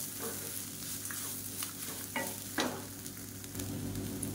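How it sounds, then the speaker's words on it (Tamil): Onions and grated coconut stir-fried in a pan, a soft steady sizzle with a few brief scraping stirs, close and alone without talk. "இப்போ பாருங்கள், தேங்காய் சேர்த்து நல்லா பரட்டியாச்சு"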